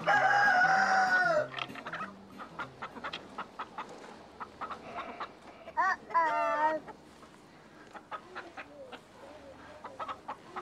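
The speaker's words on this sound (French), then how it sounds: "On nourrit les poules tous les jours." Chickens cluck and a rooster crows, with a long loud crow at the start and another mid-way, between scattered clucks and fowl chatter at close range.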